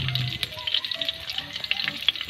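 Aromatics crackle and sizzle in a little cooking oil in a hot pan, a busy, uneven frying texture with small pops, close and moderately loud.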